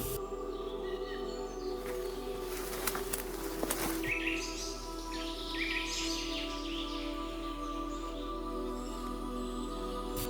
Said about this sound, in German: Die ersten Sonnenstrahlen dringen durch das dichte Blätterdach und läuten eine Symphonie aus Geräuschen, ein Vogelgezwitscher, Insektengezirpen